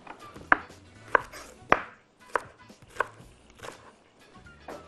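A knife chops onion on a cutting board, about eight sharp, evenly spaced strokes roughly every half second, close and clear with no talking.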